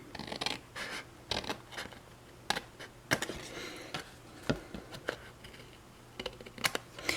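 Scissors cutting folded paper for a tri-fold snowman craft, a series of close, crisp snips and rustles in irregular bursts, alone without talk.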